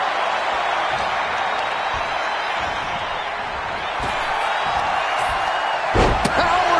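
Wrestling power slam in WWE 2K25, a broad impact thud near the end landing over a steady roaring arena crowd with cheering and commentary-style ambience throughout.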